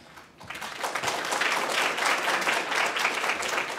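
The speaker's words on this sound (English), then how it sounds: "we need a second round of applause for Katie Connell" Applause from an audience fills the space, a steady wash of many hands clapping that builds quickly after a brief quiet start and holds.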